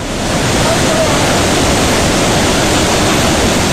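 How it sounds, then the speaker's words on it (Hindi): Thundering waterfall with a powerful rush of water pouring down, a loud, steady, dense broadband roar filling the whole span without a break, close and unrelenting. "कानों को सुन्न कर देने वाले वाटरफॉल की ये तस्वीर बेहद डरावनी है।"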